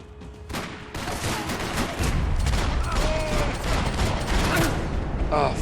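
Rapid bursts of gunfire in the Max Payne 3 video game, dense overlapping shots and booms that grow louder and continuous, with a voice talking over the shooting.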